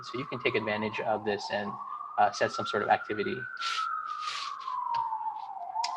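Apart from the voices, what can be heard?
police sirens outside in city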